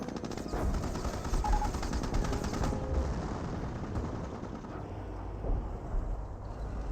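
Company of Heroes battle gunfire, a continuous dense clatter of machine-gun and rifle fire with rumbling explosions underneath, steady and loud throughout.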